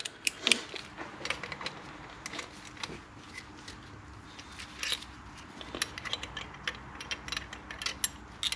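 Rapid, quiet clicking of a ratchet loosening a bolt on a DRZ 400 engine during a rebuild, in repeated short bursts with brief pauses between strokes.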